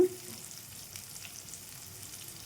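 Brinjal pieces and onions frying in a pan for a spicy dry eggplant dish, a steady soft sizzle that runs alone throughout, close and fairly quiet.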